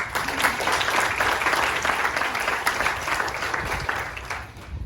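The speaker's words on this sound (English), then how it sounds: "So another round of applause for them, please." At a foundation's medical wing ceremony, a crowd gives a sustained round of applause for staff and volunteers, loud and continuous with no talking over it.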